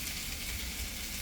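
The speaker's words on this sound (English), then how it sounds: "Yeah, sizzling straight away." Paprika-flavoured BBQ chicken skewers sizzle on an outdoor grill with a soft, even hiss that runs without pause and has no voices over it.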